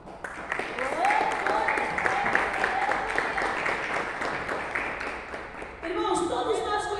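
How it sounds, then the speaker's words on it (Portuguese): Clapping from a church congregation runs steadily throughout, with a voice and music-like tones riding over it, and the sound grows fuller toward the end. "Se assenta e exalte o Senhor com palmas de vitória."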